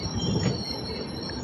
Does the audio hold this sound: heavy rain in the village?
no